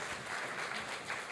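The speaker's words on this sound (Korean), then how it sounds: "하나님께 영광의 박수 올려드리겠습니다" A church audience claps in a faint, steady patter, a short burst of applause heard from some distance.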